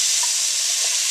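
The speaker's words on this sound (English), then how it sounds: "I'm gonna stir fry the meat until meat totally gets brown." Beef stir-fried in a pan with onion, garlic and cumin: a loud, continuous close-up sizzle with brief stirring scrapes, no voices.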